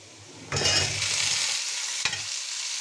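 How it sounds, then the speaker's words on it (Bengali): Onions frying in a pan for an ilish fish curry with potatoes and pointed gourd, a bright sizzle jumping up as they are stirred, a sharp scrape of the utensil near the end, close and steady. "পেঁয়াজ ভাজা হয়ে গিয়েছে"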